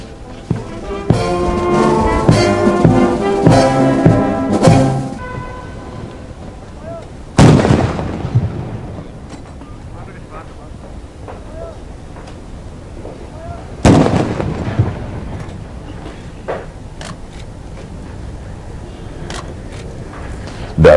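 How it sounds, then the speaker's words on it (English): A Sri Lanka Army ceremonial gun salute for a visiting Maldivian President, with three heavy booming shots spaced widely apart, each trailing off into open air over a murmur of the outdoor ceremony. "A guard of honor and a gun salute were conducted by the Sri Lanka Army"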